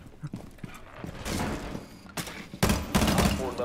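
Gunfire and tactical action inside the Rainbow Six Siege video game, with bursts of shots and clattering impacts coming in clumps, loudest toward the end, over a busy game soundscape.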